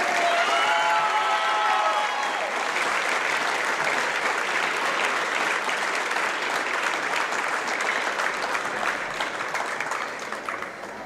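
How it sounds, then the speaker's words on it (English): Crowd applause at a high school girls' basketball game honoring a senior player, dense sustained clapping filling the gym that tapers slightly toward the end. "Big round of applause for Evie Neck."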